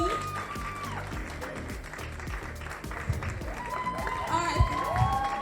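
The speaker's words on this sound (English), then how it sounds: "Let's give her a round of applause." An audience at a Nigerian makeup, hair and skin industry event applauds in sustained clapping, moderately loud, with a voice talking over it and background music.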